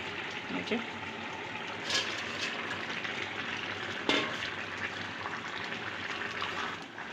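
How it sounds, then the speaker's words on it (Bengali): A bottle gourd and fish curry broth boils uncovered in a pot, giving a continuous soft bubbling and sizzling with a few clinks of utensils, heard close and without speech. "ঢাকাটা খুলে নিয়েছি, ঝোলটা টকবক করে ফুটে উঠেছে।"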